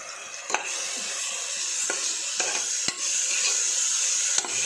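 Masala paste frying in a pan for a mushroom gravy, a steady broadband sizzle with a few sharp scrapes as the spoon stirs it, close and alone.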